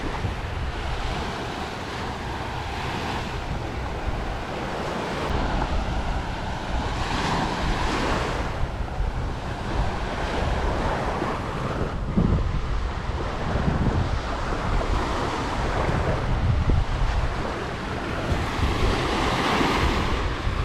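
Surf washing onto Sunset Beach on Koh Rong Sanloem, Cambodia, a steady broadband roar of breaking waves with wind buffeting the microphone, continuous and fairly close, with no voices.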